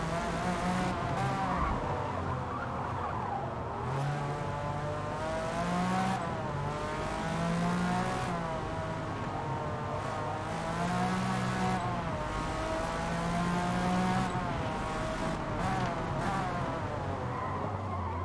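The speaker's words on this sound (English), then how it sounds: "Timo, went for it, went deep, attempting to overtake both the Ferraris" Race cars in the Forza Motorsport video game roar continuously as engines rev up and down through gear shifts, with tire squeal during an overtaking attempt on two Ferraris, loud and unbroken with no talk.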